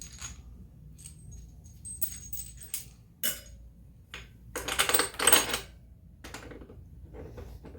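Metal bolts and washers clink and rattle in several short, sharp bursts as they are handled against a riser, with a busier cluster of jingling near the middle and quieter pauses between.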